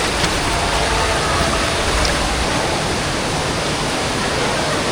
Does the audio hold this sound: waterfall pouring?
yes